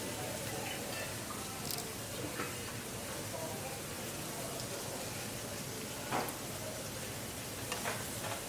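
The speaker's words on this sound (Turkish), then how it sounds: "güzelce bunları kızartacağız tabii" Steady, dense sizzling of meatballs frying in hot oil, a constant crackling hiss with occasional sharper pops, close and continuous.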